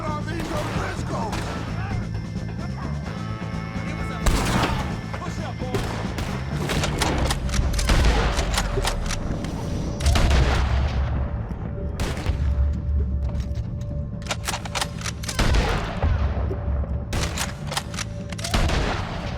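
A Red Dead Redemption 2 gunfight against the O'Driscolls fills the clip with many sharp gunshots in irregular volleys, some near and loud, some farther off, and a few heavy booming thuds land among them.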